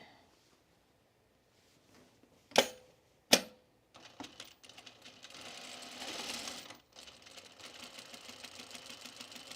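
A sewing machine stitches a piece of scrap fabric on a long stitch length, starting with two sharp clicks, then running in a steady mechanical whir that rises, pauses briefly, and resumes, fairly quiet and close.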